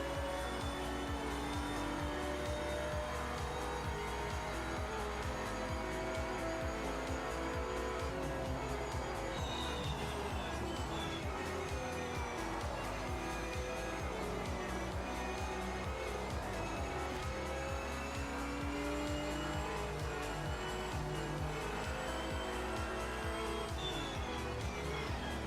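A race car in a racing video game spins out during a qualifying lap, engine droning steadily with tire squeal and skidding tones sweeping across the middle, loud and continuous throughout.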